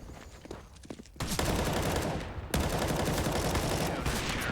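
Loud bursts of gunfire and grenade blasts from a CS:GO match between Heroic and OG on Mirage, a quieter stretch giving way to dense, sustained automatic fire and explosions for most of the clip.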